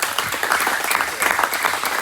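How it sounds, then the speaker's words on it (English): Applause fills a lecture room after a pesticide-program talk, a thick continuous wash of many hands clapping, fairly loud and even throughout with no speech over it. "let's give him a round of applause"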